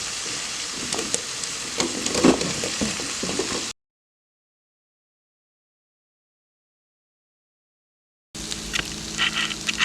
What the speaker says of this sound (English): Back to our soup pot, we're going to add the potatoes.